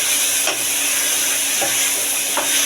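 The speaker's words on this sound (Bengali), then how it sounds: "এবার আবার একটুখানি কষিয়ে নেব।" Egg curry with tomato sauce sautéing in a pan, a loud constant sizzle and hiss with a few soft stirring scrapes of the spoon, close up and without talk.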